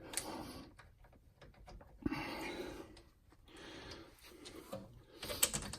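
A ratchet tightens the brake caliper bolts on a 2011-2017 Hyundai Elantra to 20 foot-pounds, giving a few quiet, irregular bursts of clicking with pauses between them.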